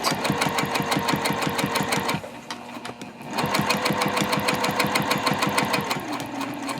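A sewing machine runs fast, even stitches along the top stitching of a zip-top tote bag. The near, rapid mechanical chatter pauses for about a second, then resumes at the same steady pace, with no talking.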